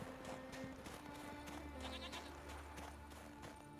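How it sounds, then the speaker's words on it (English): Goats bleat in The Witcher 3: Wild Hunt, with several short calls breaking through a steady, dense game ambience of wind and background noise and no voices over them. "Goats!"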